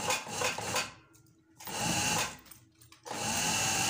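Sewing machine stitching a shirt along its piping, two short whirring bursts separated by pauses, moderately faint and close, with no talk.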